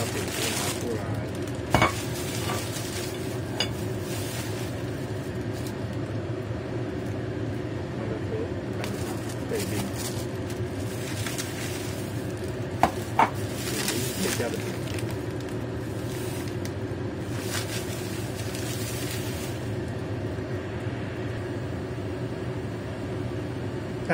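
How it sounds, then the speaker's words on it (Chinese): Eggs fry in a pan for an egg pancake with hash browns, a steady low sizzle with occasional clinks and scraping sounds over about twenty seconds. "蛋已经煎好了"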